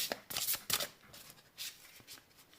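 A deck of 13 Moons oracle cards is riffled and shuffled up close, with several crisp flurries of flapping card edges separated by brief pauses.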